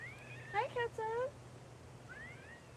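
A female cat at home gives a couple of close, clear meows in quick succession, then a softer rising meow a moment later against a faint background hum.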